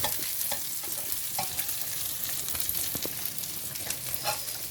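Onions sauté in a pan for a Brussels sprouts curry, giving a continuous close sizzle with scattered crackles and light stirring scrapes. A faint bark may sound in the background.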